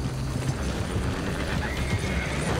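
A horse's hooves clip-clop at a gallop and the horse neighs in the Red Dead Redemption 2 video game, a steady, moderately loud rhythmic hoof patter over a dense game soundscape, with no talking.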